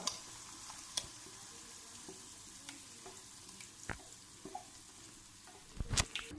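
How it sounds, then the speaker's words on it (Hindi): Marinated chicken hits a hot pan and sizzles softly, with a low steady frying hiss broken by sharp clicks and a louder clatter of stirring near the end. "अब हम इसमें ये अपना जो मैरिनेशन किया हुआ चिकन था वो डाल देते हैं"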